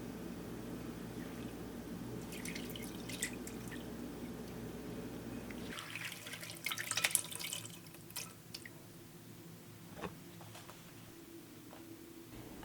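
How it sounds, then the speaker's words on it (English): Lentils get washed in water, first under a low steady hum with light trickling, then soft splashes and drips, squishy stirring, and scattered quiet clinks, fairly faint overall. "wash the lentils and soak them in plenty of water overnight to cut down on cooking time."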